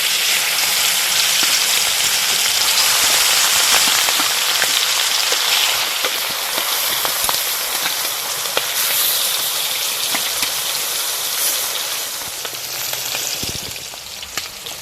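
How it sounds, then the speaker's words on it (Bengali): Pieces of snakehead (shol) fish fry in hot oil in a wok, giving a loud, dense, steady sizzle that crackles without a break from start to end, with no talk. "তেল গরম হয়ে গেছে, এবার মাছগুলো ভেজে নেব।"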